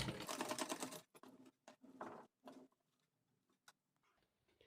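A sewing machine stitches the lining of a black blouse in a rapid burst of close, rattling runs for about a second, followed by short, faint start-stop bursts and near silence.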